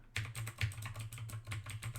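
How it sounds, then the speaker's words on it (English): Rapid clicking of keys on a computer keyboard as someone types, a steady run of close, crisp taps over a low constant hum, with no voices. "The keyboard? Let's hear it."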